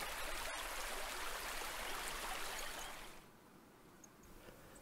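Grødebæk, a forest stream in Rold Vesterskov, flows with a steady broadband wash of water that softens after about three seconds, with no voices.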